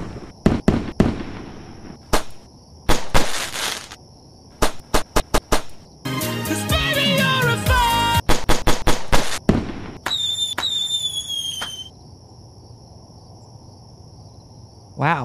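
A string of sharp firework bangs and crackles, with a dense burst of crackling in the middle and whistling fizzes later, loud and fairly close.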